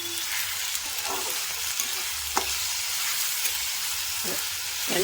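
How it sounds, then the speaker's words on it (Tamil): Dal and onions sauté in a pan for a pitthukam paruppu upma with avarakkai, giving a steady soft sizzle broken by a few sharp stirring scrapes and clinks, close up with no voices. "இந்த பருப்பு இந்த வெங்காயம் நல்லா வதங்கி வரும்"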